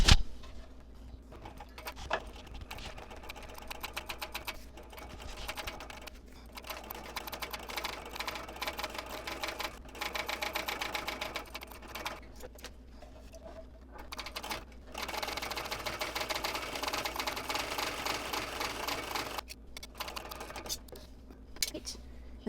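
A sewing machine stitches a handbag crossbody strap in rapid, steady bursts, quiet and close, with short pauses between runs while a person talks over it.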